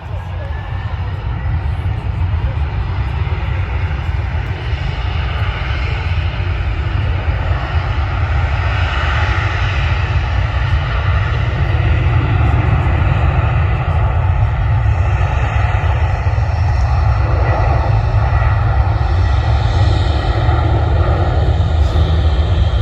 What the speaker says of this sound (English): And here we go for the TUI 767 for one of the very last times.